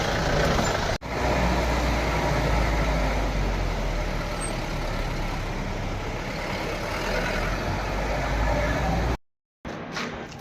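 Car driving on a mountain road after leaving Gaurikund: a steady, close engine and road rumble inside the vehicle, briefly cutting out near the end.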